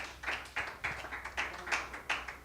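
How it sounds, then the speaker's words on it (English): Audience at a business seminar clapping, a short burst of applause with distinct rhythmic claps about every quarter second, moderately close and fairly light, as from a small group. "Please, a round of applause for SWIFTtrip"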